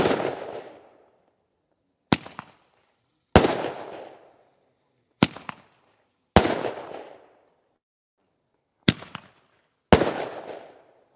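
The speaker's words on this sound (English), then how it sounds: "Here goes our first red wave artillery stick. Wow, even these have a pop to them." Red wave artillery stick fireworks at a Fourth of July show, going off one after another in about seven sharp loud bangs, each followed by a crackling fading tail with silent gaps between.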